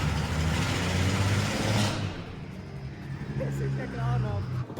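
A BMW F80 M3 with a big turbo conversion revs roughly on a cold start, its loud, ragged engine drone running throughout with a sharp burst early on, while a person talks over it.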